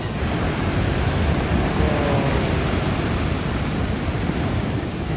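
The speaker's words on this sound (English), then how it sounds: "big powerful waves" Big, powerful ocean waves pounding a reef at Siargao make a loud, continuous roar of broadband surf with no pauses, heard close and alone, without any voices.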